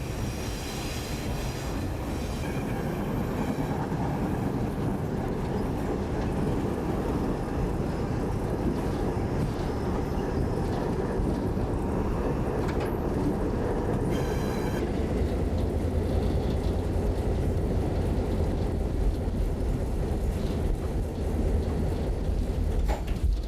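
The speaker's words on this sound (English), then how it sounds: "a swift-footed intermodal train rolls past" An intermodal freight train rolls past close by on a Conrail main line, a loud continuous rumble of wheels and cars with occasional squeals and clatter, steady throughout with no voices.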